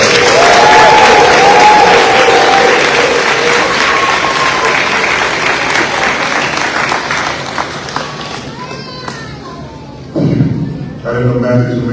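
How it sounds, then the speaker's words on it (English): Audience at an elementary school fifth grade promotion ceremony gives the graduating class a loud, sustained round of clapping that gradually thins, then fades out as voices and a brief thump take over near the end. "let's give the graduating class another round of applause."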